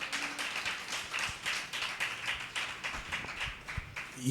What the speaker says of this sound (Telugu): స్తోత్రం చెప్పండి, చప్పట్లు కొట్టండి ఒకసారి